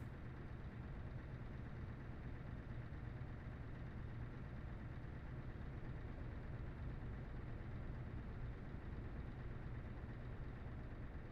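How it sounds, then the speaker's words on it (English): R2009 bus engine idling in a video game: a steady, low, continuous rumble that holds even and unbroken throughout, with no talking. "I just like the engine sound of this one."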